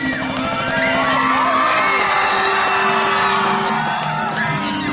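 A church crowd whoops, yells and cheers loudly and continuously, children's shouts mixed into the sustained roar, with piercing high whistles and squeals rising over the din.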